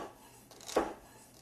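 A kitchen knife pushed through celery on a cutting board, making one brief, soft crunching chop near the middle of an otherwise quiet moment, with faint board contact around it.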